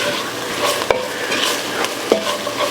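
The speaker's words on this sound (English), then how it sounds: "So once that's in, give it a stir." Smoked truck stop chili being stirred in a pot, a steady scraping and sloshing with a faint sizzle underneath and a couple of sharp utensil knocks against the pot.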